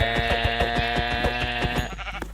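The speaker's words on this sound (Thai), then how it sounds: "โอ้แกะเจออีกแล้ว" A Minecraft sheep gives one long, loud, close bleat with a wavering, buzzy tone that trails off near the end.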